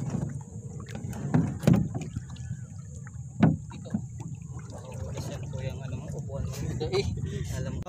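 Water sloshes and splashes against a small boat as it is lowered into the sea, with a couple of sharper splashes early on and people talking nearby throughout.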